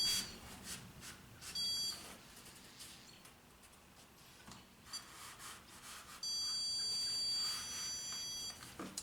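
A stud finder slid across a sheetrock wall gives a few faint, thin electronic tones, with a longer steady beep near the end over quiet room noise.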